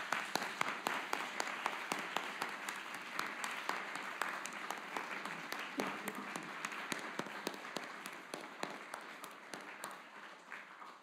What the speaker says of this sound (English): give a big round of applause to all 85 teams